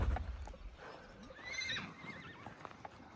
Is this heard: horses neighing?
yes